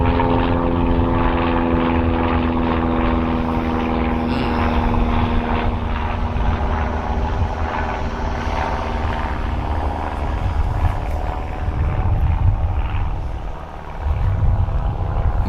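An airplane flies overhead, a loud continuous droning roar with steady engine tones that swells slightly near the end.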